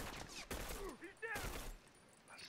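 Burst rifle fire in The Last of Us Remastered, a couple of loud, clustered shot volleys with ringing tails, separated by a short pause and followed by quieter ambience.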